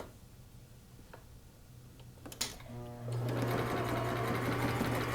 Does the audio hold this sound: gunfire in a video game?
no